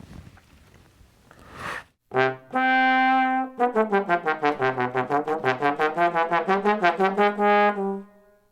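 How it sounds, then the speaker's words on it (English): Brass instruments play the theme of a Bach fugue: a short low note leaping to a long held high note, followed by a brisk run of detached repeated notes. "So here's the theme to Bach's fugue."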